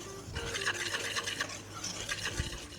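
All-purpose flour, baking powder and salt are stirred together in a bowl for empanada dough, giving a soft, close, continuous scraping and rubbing with no voices.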